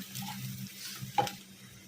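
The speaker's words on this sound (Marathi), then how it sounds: "जेव्हा मसाला आपला लालसर होऊन जातो चांगला भाजून जातो" Masala of chilli, turmeric and salt frying in a pan for Khandeshi bharit, with a soft steady sizzle and brief stirring scrapes, including one sharper scrape near the end.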